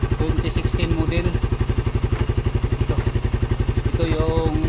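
A 2016 carbureted motorcycle engine runs close by with a steady, rapid chugging beat throughout, while a person talks over it.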